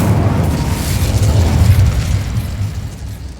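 An Incendio fire spell cast in the Hogwarts Legacy game, a loud, dense whooshing burst of flame with a low rumbling roar that holds steady, then tapers slightly at the end.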